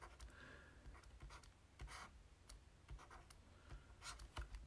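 Pen or marker writing out a maths expression on a board or paper, a steady stream of small scratchy strokes and taps, close and fairly quiet with no talking.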